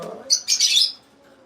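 Pet birds kept for breeding chirp in short, bright bursts, a few quick calls close by over a quiet room.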